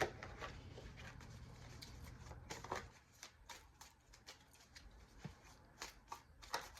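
Tarot cards are shuffled and drawn by hand, a close, quiet riffling flutter at first, then scattered soft slaps and slides as single cards are pulled and laid down.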